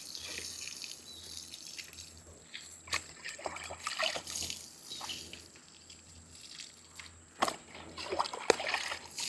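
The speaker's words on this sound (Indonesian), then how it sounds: "Oke, langsung aja disiram kayak gini." Water trickling and splashing as potted plants are watered with a root stimulant solution, with uneven pours and drips at close range under quiet background noise.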